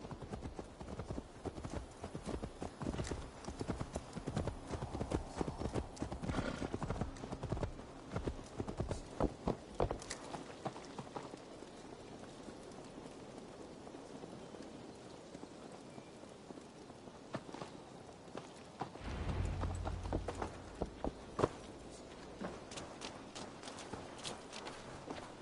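Horse hooves clop steadily in Assassin's Creed Valhalla on PS5, an even walking rhythm with a light rain-like patter in the background and no voices.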